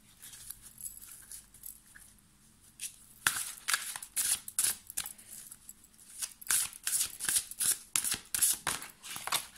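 A deck of oracle cards is shuffled by hand. Soft riffling and slapping card sounds start sparse, then turn into a quick, regular run of crisp flutters close by, with no talking.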